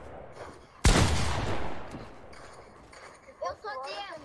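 A loud burst of gunfire in the video game Fortnite cracks out near the start, followed by a decaying rumble, with voices talking faintly afterward.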